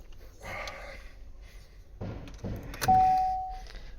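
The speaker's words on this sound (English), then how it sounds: "So let's just shut the door, open it up." The driver's door of a 2013 Vauxhall Astra J shuts and opens. Two close thuds and latch clicks land about a second apart, with rustling and faint jangling around them in a quiet interior.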